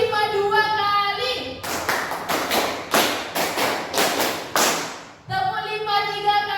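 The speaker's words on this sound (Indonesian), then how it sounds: "Tepuk 5 2 kali." A fifth-grade classroom claps a five-count pattern twice, about ten crisp, loud group claps in steady rhythm, with a teacher speaking before and after.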